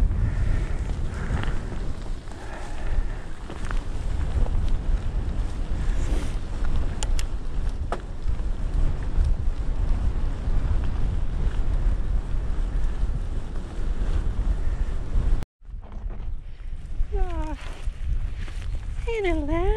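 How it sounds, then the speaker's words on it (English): Strong stormy wind on a byway across Salisbury Plain roars and buffets the microphone continuously, a dense rushing noise that suddenly cuts off near the end, leaving quieter outdoor sounds with sheep nearby. "It's windy."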